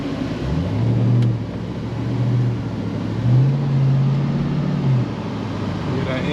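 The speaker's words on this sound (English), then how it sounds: "Hear that engine roar?" A car engine at an auto auction lot rumbles low and steady, swelling in a few revving surges, with crowd noise and chatter around it.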